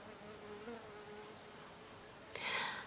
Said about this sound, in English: we've just got a lovely honeybee that's just come in